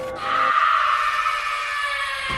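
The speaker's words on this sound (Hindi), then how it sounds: "दोस्तों, ये चीखें कैसी है और किसकी है?" Screams from an animated horror story: one loud, sustained high-pitched shriek over a constant noisy roar, with a sharp onset at the start.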